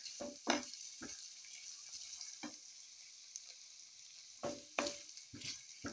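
Potatoes, onions and garlic half-cooking in a frying pan: a soft sizzle with several sharp bursts of stirring and scraping, clustered at the start and again near the end, fairly close and with no speech.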